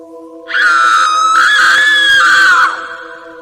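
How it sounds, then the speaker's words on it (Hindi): A woman's long, loud, sustained scream of horror, piercing and held for about two seconds before trailing off, over a steady low background drone in a spooky village tale. "वो चेहरा देखकर आरती की चीख निकल गई।"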